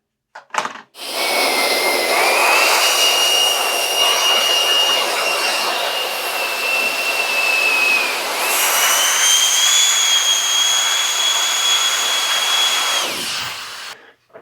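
A Reodix R9 electric air duster blows at full speed, a loud, steady high-pitched jet-like whine and rush of air that starts abruptly, shifts pitch partway through and cuts off near the end.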